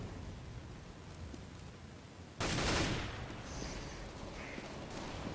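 An auto sniper fires in a CS:GO match, one sudden sharp blast that cuts through a steady hiss of game ambience, followed by a lingering echoing tail and faint in-game effects.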